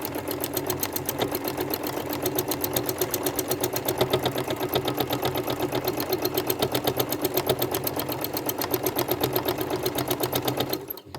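A sewing machine doing free-motion stippling on a quilt, running in a fast, even rattle of needle strokes for about eleven seconds before stopping abruptly.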